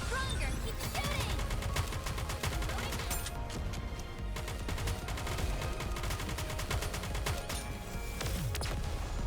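Dense, relentless gunfire from shooting in the Nikke video game, with rapid automatic bursts and impacts layered into a loud, continuous barrage that barely lets up for the whole stretch.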